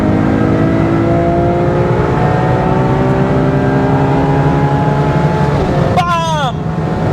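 Ferrari 812 Superfast at high speed on the Autobahn, a loud steady engine drone with rising harmonics and wind roar throughout, then a quick sweeping gear change near the end.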